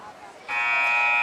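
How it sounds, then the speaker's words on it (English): A loud, sustained electronic buzzer sounds to end the first period of a 2020 varsity high school wrestling match between Mount Carmel Area and North Schuylkill, cutting in abruptly over crowd murmur and holding steady to the end. "And at the buzzer"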